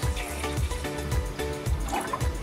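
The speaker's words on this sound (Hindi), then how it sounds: "हम गैस को ऑन करेंगे और इसमें हम पानी डालेंगे 1/2 पतीला।" Water poured into a cooking pot on a gas stove, a steady splashing and gurgling stream running continuously at close range with no talk.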